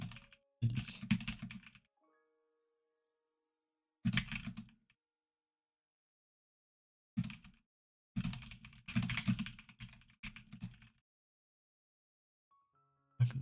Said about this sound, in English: Look at my typing.